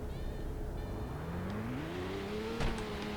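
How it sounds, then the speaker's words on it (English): A Lamborghini Centenario in the Roblox Full Throttle video game accelerates, its engine note climbing steadily in pitch, with a brief sharp click near the end. "let's get on with the acceleration of this car."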